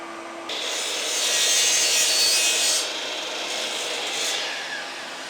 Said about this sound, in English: So before you do your cut, make sure you got your dust extractor on as well.